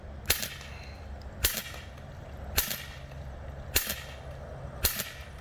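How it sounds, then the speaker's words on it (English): A Drozd BB gun fires five single shots, each a sharp crack spaced about a second apart at an even pace. The shots are moderately loud and close, with no talking between them. "I'm firing one shot at a time"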